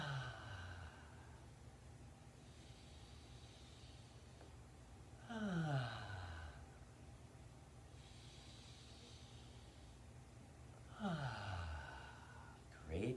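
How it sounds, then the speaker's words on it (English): Slow, deep breaths repeat during a children's wake-up exercise, long airy inhales and exhales spaced several seconds apart, faint and close, with music playing softly underneath. "Now let's wake up our lungs with some nice big deep breaths."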